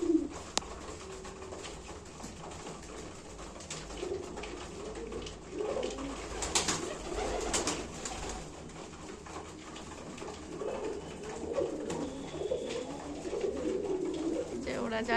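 Pigeons coo softly in their roost at evening feeding time, low murmuring calls that come and go amid quiet rustling and background noise, with faint human voices nearby.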